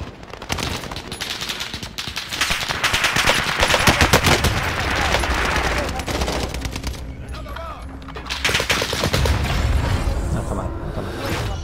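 Continuous rapid gunfire in the video game Call of Duty: Warzone, with bursts of automatic shots and booms, dense and loud throughout, with occasional whooshes and no clear speech.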